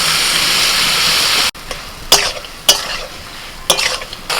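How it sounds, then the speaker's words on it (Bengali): Ground spice paste sizzles loudly in a hot pan, then the hiss abruptly drops and gives way to quieter frying punctuated by several distinct scraping stirs of a spoon, up close. "এবার আমি বাটা মশলাটা দিয়ে দিচ্ছি এবার অল্প করে একটু বাটনা বাটার জলটা দিয়ে দিচ্ছি"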